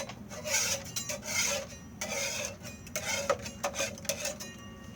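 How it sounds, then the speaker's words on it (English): Debris scraped off a 3D printer hotbed, a run of short rasping strokes with an uneven rhythm, close and fairly quiet. "I'm also going to take a second to scrape any debris"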